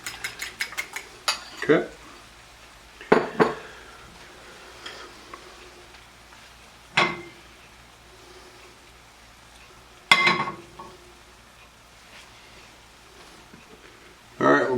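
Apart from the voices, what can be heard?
mixing eggs in a bowl for a Greek omelet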